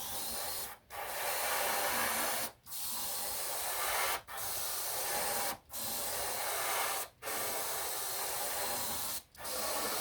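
An airbrush spraying CDL paint during work on a Blackburn Monoplane gives a close, steady hiss in six long passes, each broken by a brief pause, with no talking.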